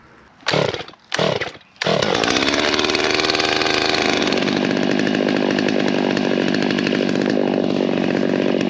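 A chainsaw cutting up an oak log into lumber gives a few short revving bursts, then settles into a loud, steady, close-up roar of the chain biting through the wood, with no talking.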